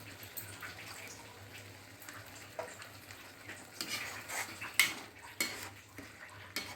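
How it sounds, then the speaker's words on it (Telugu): A ladle stirs jackfruit biryani masala in a pot, giving quiet scraping and sloshing strokes with a faint simmer and occasional clinks of metal, with no talking. "గరిటెతో తిప్పుతూ కలుపుకోవాలి."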